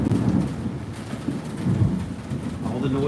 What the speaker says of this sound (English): that's a big flash of lightning, so you're going to hear a lot of thunder